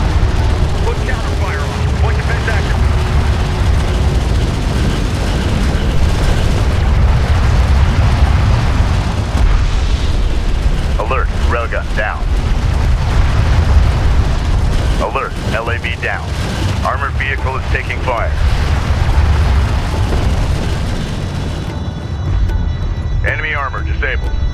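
Explosions and artillery fire rumble through a Homeworld: Deserts of Kharak battle, a continuous heavy low roar of booms and engine noise under intermittent radio-style voices calling out combat reports.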